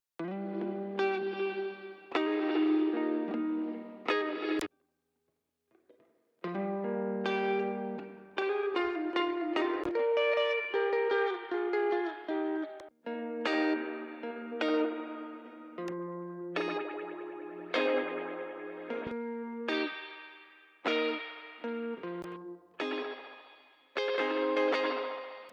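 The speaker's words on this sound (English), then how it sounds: "We'll just hear a couple of guitar and then we'll call it good for today." Electric guitar played through Silver Spring plugin presets, heavily effected with distortion, chorus and echo, strumming chords and melodic phrases in short bursts separated by brief pauses, loud and up close with no talking.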